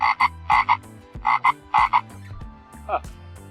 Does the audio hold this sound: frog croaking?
yes